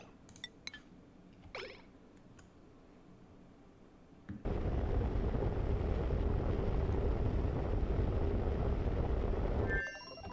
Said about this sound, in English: I'm always worried before my rockets land